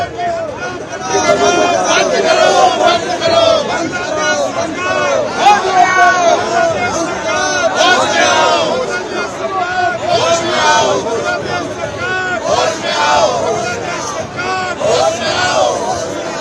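Protesters gather outside the Bangladesh High Commission in Delhi, a dense crowd of voices rising and falling in continuous chanting and shouting, loud and close throughout.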